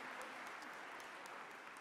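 Crowd at a get-out-the-vote rally in a church hall applauding the hosts, a continuous, even wash of many hands clapping at moderate distance.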